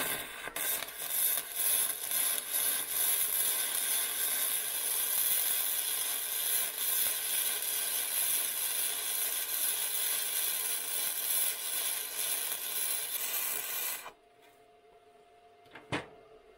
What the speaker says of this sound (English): So let's weld this.